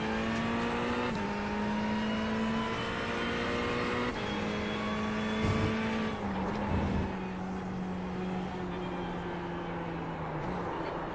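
Lamborghini race car on track, captured from onboard as a loud, unbroken engine roar that rises and steps down through several gear shifts, with brief rougher bursts partway through; no one speaks.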